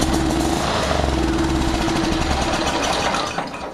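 A Honda Harmony 1011 lawn tractor engine cranks and runs in a loud, close, throbbing chug that holds steady for a few seconds before dropping away.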